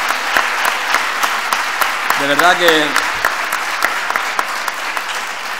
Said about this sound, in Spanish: Un merecidísimo aplauso.